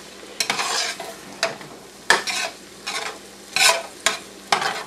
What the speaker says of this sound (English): So we're just going to kind of keep stirring it around